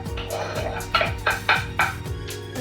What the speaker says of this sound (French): je vais pouvoir écraser mon ail